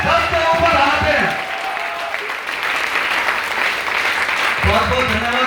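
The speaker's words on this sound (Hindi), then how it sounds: "एक बार विद्या के लिए ताली हो जाए" Audience at a CEES program event in Meerut bursts into lively applause for Vidya, following a man's speech and fading as talking resumes near the end.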